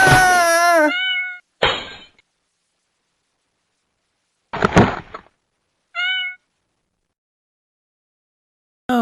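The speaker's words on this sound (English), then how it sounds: "This cat's frightened of water." A frightened cat yowls and meows in rising wails while being bathed in water, several separate cries with thumps and brief silent gaps, and a person exclaims once.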